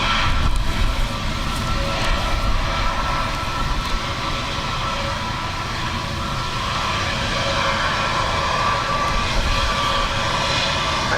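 Aircraft taking off in a strong crosswind at Dublin Airport, a loud, steady roar of jet engines with broad rumbling noise throughout, heard up close and without talk.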